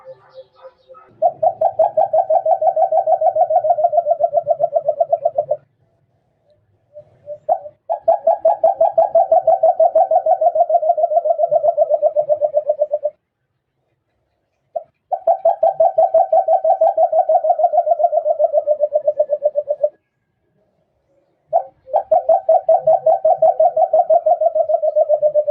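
A bird call for luring birds in alimokon hunting, a loud, rapidly pulsing trilled note repeated in four long bursts of several seconds each, separated by short silences, with no other sound.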